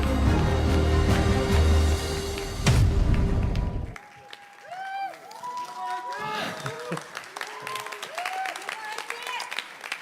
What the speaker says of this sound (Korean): 여러분 큰 박수와 함성으로 맞아주시기 바랍니다